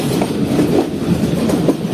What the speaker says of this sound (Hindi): तो दोस्तों ये हमारी ट्रेन इस वक्त अप्रोच कर रही है सरहारी रेलवे स्टेशन पर